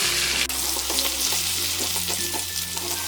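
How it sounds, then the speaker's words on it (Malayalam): Chopped small red onions (shallots) fry in hot oil for a black chickpea curry, giving a steady, dense sizzle that runs the whole time at close range, with no talking. "അത് ഇതിലേക്കിട്ട് ഒന്ന് വറുത്തെടുക്കാം."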